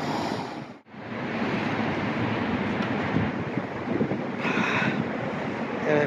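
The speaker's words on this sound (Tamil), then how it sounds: "டீஷர்ட் பறக்குது பாருங்க, எப்படி சரியான காற்று அடிக்குது" Strong wind blows across a microphone beside a highway near Jubail, Saudi Arabia, a loud, steady roaring rush of buffeting air that dips briefly near the start and then gusts on for several seconds without talk.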